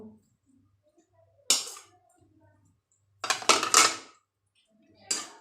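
A spoon clinks against a bowl while chopped onion, potato, tomato and salt are mixed, a few sharp scraping knocks spaced apart over quiet background.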